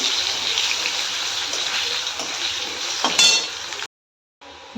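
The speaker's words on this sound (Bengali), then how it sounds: "মাছটা ভাজা হয়ে গেছে, এগুলো আলুগুলো লাল লাল করে ভেজে নেব" Potatoes fry in a pan, giving a steady, close hiss of oil broken by a few soft stirring clatters before the sizzle cuts off near the end.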